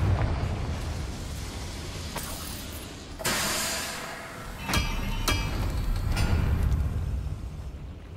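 Confringo blasting spells explode in Hogwarts Legacy during a fight with goblins, several deep booming bursts over a steady rumbling game soundscape.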